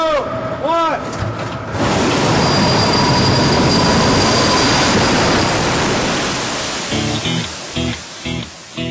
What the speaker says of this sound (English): It allows passengers to get from a door here, across the wing to the ground, deploying almost as if by magic from here.